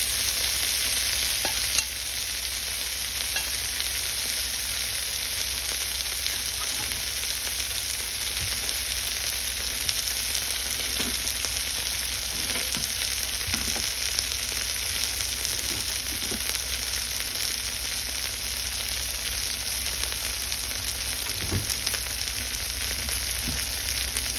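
Tofu steak frying in a pan gives a steady, loud, continuous sizzle throughout, with occasional faint clicks and stirring sounds underneath and no talking.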